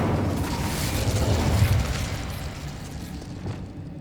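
In Hogwarts Legacy, an Incendio fire spell bursts into a roaring, rumbling whoosh of flame that swells early, then slowly fades and thins toward the end.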